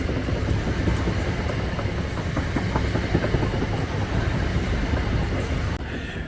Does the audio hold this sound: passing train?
yes